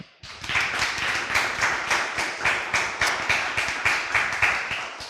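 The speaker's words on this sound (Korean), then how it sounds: "윤성로 교수님께 다시 한번 박수 부탁드립니다" An audience at a leadership forum lecture on AI and deep learning applauds a professor, with dense, even clapping that starts abruptly and holds steady for several seconds.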